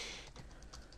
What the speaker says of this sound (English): you can do this by typing 3 slashes